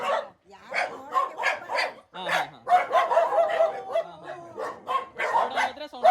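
Street dogs in Kodagu bark in quick repeated bursts with a few higher yips, loud and close, while people talk in the background.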